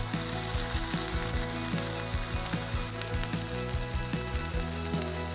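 Tomatoes fry with softened onions and butter in a pan, making a constant crackling sizzle broken by regular light taps and stirring clicks, with no voices.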